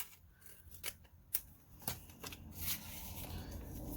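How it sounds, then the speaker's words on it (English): Scissors trim paper for quilting ephemera, giving several crisp, close snips and rustles spaced irregularly over a quiet background. "It was just a little too wide, so I'm just going to trim some more off."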